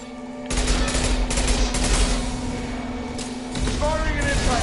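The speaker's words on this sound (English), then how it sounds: "Firing an impact gun!" An impact gun fires repeatedly in the Mass Effect Legendary Edition sci-fi video game, dense loud bursts of gunfire over a steady background hum.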